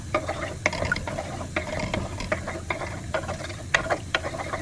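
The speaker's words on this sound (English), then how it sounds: "I like to now break the eggs up a little bit, just so get the heat moving around the pan a little bit more" A utensil stirs and breaks up scrambled eggs in a frying pan, producing light repeated scraping clicks in an irregular rhythm over a faint sizzle, close and fairly quiet.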